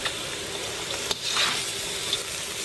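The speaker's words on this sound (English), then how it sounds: "Stir it until bean sprout and Thai flour is cooked." Tofu and bean sprouts stir-frying in a hot pan give a close, steady sizzle, with a few brief scrapes of stirring and no talk.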